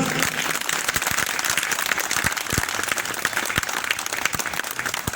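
An audience at a Mata ki Chowki gathering claps for retailers: dense, loud, steady applause that lasts throughout, with a few sharper individual claps standing out and a faint voice underneath.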